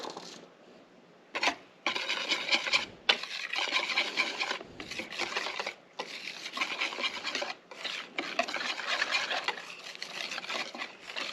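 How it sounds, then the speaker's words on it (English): Flour sifted into a thin clafoutis batter, a dry raspy scraping that comes in rhythmic bursts of a few seconds each, separated by short pauses, close and fairly quiet. "So I'm going to sift this flour in."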